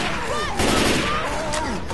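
Rapid bursts of gunfire in the Left 4 Dead 2 survival mode in a mall atrium, loud and close, mixed with game noise and players talking.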